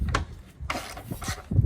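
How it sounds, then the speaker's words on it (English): Radiator bolts being tightened on a 2001 Toyota Camry, heard as close scraping and rubbing of metal tool on fastener in short irregular strokes, with a few dull knocks at the end. "let me tighten it up."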